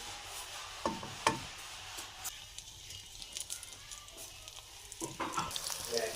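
Coated chicken vegetable rolls go one at a time into hot oil, giving a steady close crackling sizzle with a few sharper spitting bursts as each roll enters.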